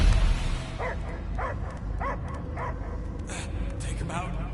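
In the Guardians of the Galaxy video game, a dog barks and yips repeatedly at a steady rhythm, fairly close, over a rumbling background with voices.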